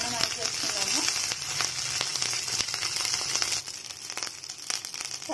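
Curry leaf rice being stirred and fried in a pan, a dense crackling sizzle dotted with spatula scrapes and rustles, close and moderately loud, with no talking.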